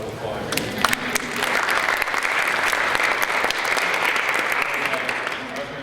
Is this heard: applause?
yes